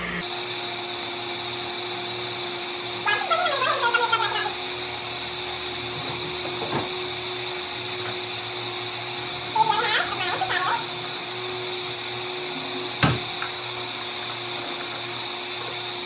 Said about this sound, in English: I usually let them blend for about a minute or so that it really blends it well so that it's more of a juice and not a puree